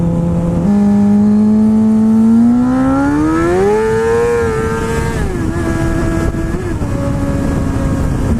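A car engine revs hard during a wheel spin, its loud, close whine climbing steadily in pitch, then easing and wavering as the tires lose grip.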